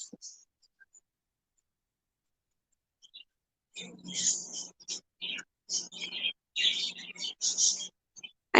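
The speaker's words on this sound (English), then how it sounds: "I know you hear the birdies." Indoor birds chirping, silent at first and then a lively cluster of sharp, high chirps and tweets over the last few seconds, fairly faint and nearby.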